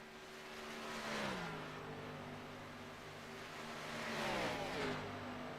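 Race car engines in iRacing at Michigan: high-revving stock-car motors whine steadily, with pitch sweeping down as cars pass close by, twice, over a continuous rush of engine noise.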